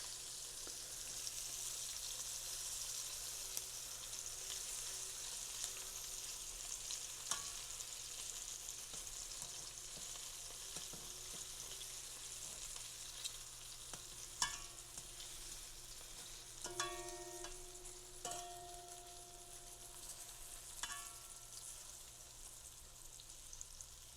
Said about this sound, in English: we're going to let those finish fry up